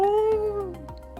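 A human voice imitates a cat's meow, producing one clear, close, drawn-out tone that bends slowly downward and fades away.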